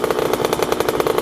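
A two-stroke 125cc sport motorcycle engine at full throttle gives a loud, steady, rapidly pulsing buzz, close by and with no talk over it.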